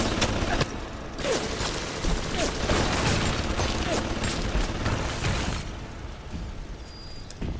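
Gunfire in the video game BioShock, a dense continuous clatter of shots and mechanical noise filling the scene at steady loudness, with a person talking faintly underneath.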